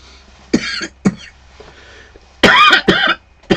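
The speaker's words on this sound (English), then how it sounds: "As I cough my lungs out." Several harsh coughs, close and loud: two quick ones, a pause, then a cluster of three heavier hacking coughs.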